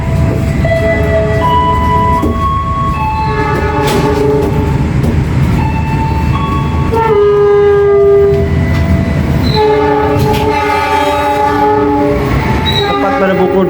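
The Serayu night passenger train pulls out of Cikampek station, its horn sounding in long tonal blasts over a steady rumble and clatter of wheels and cars, loud and close throughout.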